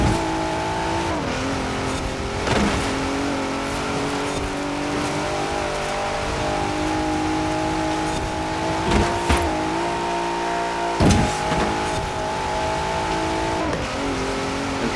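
Forza Horizon 4 race cars in an autumn trial race roar steadily with sustained engine drone, shifting pitch as they accelerate, and a few sharp transient bumps and knocks along the way.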